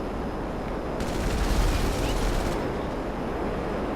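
Gunfire from a Hydra jet's strafing run in Grand Theft Auto 5 rips out as a loud, dense burst lasting about a second and a half over a steady jet roar.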